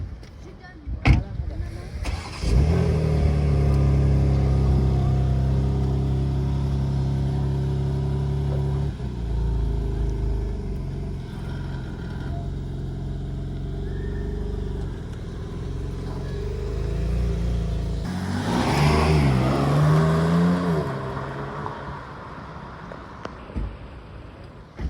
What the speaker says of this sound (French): L'accélération de la M2